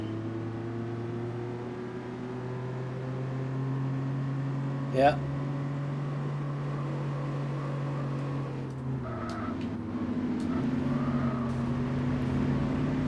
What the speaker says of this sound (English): Listen to that cacophony of V8.